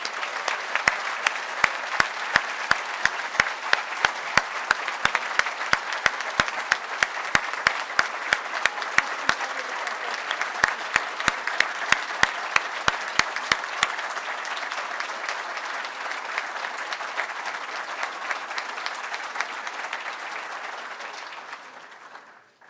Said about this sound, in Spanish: Para mi amiga Beatriz, el aplauso de todos nosotros.